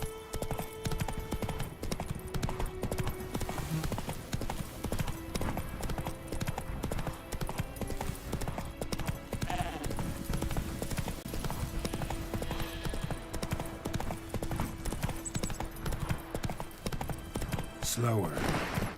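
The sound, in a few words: horse Roach trotting, from video game The Witcher 3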